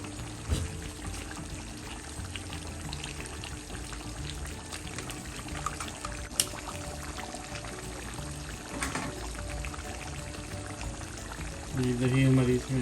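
Yogurt goes into a pot of chicken karahi with onions and tomatoes, giving a steady pouring, sizzling hiss that runs throughout, with a soft knock near the start and a louder burst just before the end.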